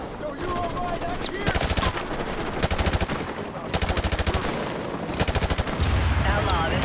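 Gunfire aimed at a balcony in Call of Duty: Modern Warfare Remastered: loud, rapid automatic bursts in several sharp volleys, with pauses between them and voices faintly underneath.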